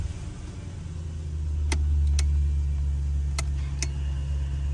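A 2004 Audi A8L engine runs close by in a low, steady hum that swells slightly after starting, with a few sharp clicks from the cabin over the idle.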